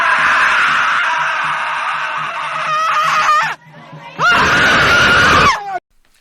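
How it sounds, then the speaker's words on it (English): Protesters at an event scream in long, loud, strained cries, with a brief break before another sustained burst of shrieking. "these people who are screaming."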